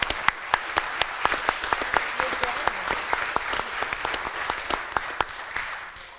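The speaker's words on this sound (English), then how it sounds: "give our panelists one more round of applause" An audience at a community forum on homelessness claps for the panelists, a moderate, continuous patter of many hands with a few sharper claps standing out, and faint voices under it.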